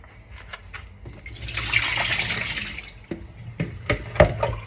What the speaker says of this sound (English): Potatoes! We're gonna drain out the water.